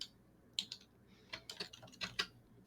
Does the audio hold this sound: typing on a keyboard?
yes